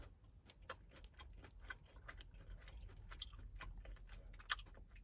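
Crunchy Pure Protein chocolate chip bar being chewed close to the mic, a steady run of sharp, dry crackling bites and crunches over a quiet background, no talking.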